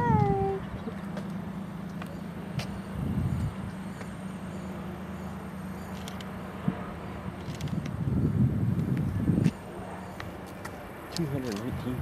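A cat meows amid outdoor background noise, with a brief cry at the start and a wavering meow near the end, while people talk nearby.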